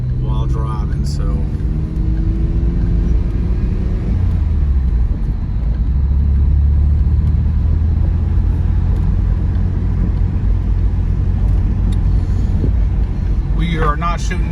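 A Mitsubishi 3000GT SL VR-4 twin turbo with 53K miles drives along, its engine droning as a steady low rumble with rising pitch, close and continuous, while someone talks over it at the start and end.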